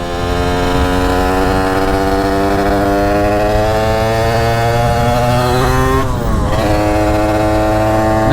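A loud two-stroke Derbi motorcycle engine buzzes up close at high revs, its pitch holding steady, then dipping and climbing again.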